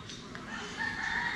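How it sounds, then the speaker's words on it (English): Roosters crowing in a village in the Philippines, a faint, drawn-out crow heard at a distance over steady background ambience. "roosters are still crowing"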